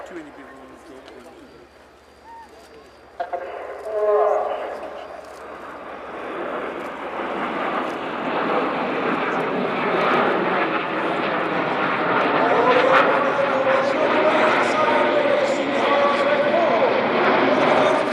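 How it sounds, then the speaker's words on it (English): Red Arrows jets perform the Typhoon Roll at an air display, a distant jet roar that swells gradually into a loud sustained rush, with a commentator talking over it and crowd noise nearby. "this is the Typhoon Roll"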